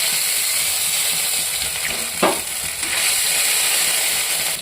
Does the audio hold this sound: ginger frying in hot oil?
yes